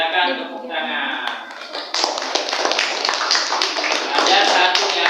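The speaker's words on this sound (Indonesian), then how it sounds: "silakan tepuk tangan" Classroom applause from a group of students, a dense patter of claps following a teacher's voice at the start, continuing steadily and fairly loud for several seconds.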